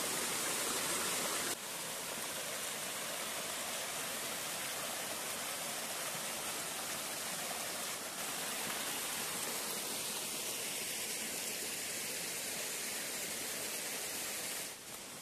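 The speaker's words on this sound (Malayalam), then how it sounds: "കുറച്ച് വെള്ള ചെറിയ വാട്ടർഫാൾസ് വെള്ളച്ചാട്ടം കാണുന്നുണ്ട്" Small waterfall on a hill trek at Vilangad, a steady broadband rush of falling water filling the whole stretch, close and constant with no talk.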